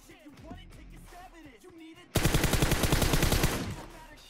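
After a stretch of someone talking, a sudden loud burst of rapid automatic gunshots erupts in the shooter game PUBG Mobile, a close, sustained volley lasting over a second before trailing off.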